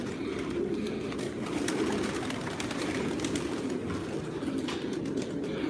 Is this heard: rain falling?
no